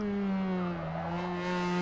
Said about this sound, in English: And it revs really high as well.